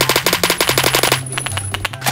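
Rapid automatic gunfire from the Roblox game Phantom Forces rattles out in a fast, loud burst, then thins into scattered shots and echoes.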